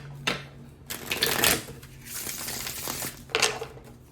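Tarot cards being shuffled in a few quick riffling bursts, crisp and close, with short pauses between them and no talking.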